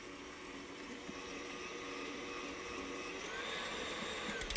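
An electric mixer whirs steadily while creaming batter in a TV studio kitchen, a constant close motor hum with a high whine that holds even throughout.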